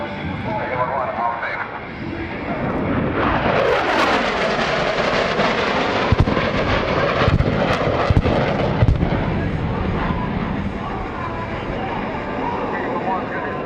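Military jet making a low-altitude attack pass at the 2018 NAS Oceana airshow, a loud roaring jet sweep with sharp pyrotechnic bangs, under a commentator talking over a PA.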